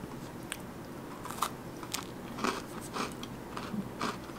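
A corn cookie from a boxed baking mix with added bacon is bitten and chewed, giving a series of close, quiet crunches and crackly chewing bursts over a soft background.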